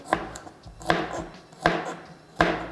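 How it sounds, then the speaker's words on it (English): Ginger and garlic are rough-chopped with a knife on a board: four sharp, close chops spaced about evenly, with faint scraping between strikes. "I'm just giving a rough chop to a piece of ginger here, 2 cloves of garlic, giving this a rough chop as well"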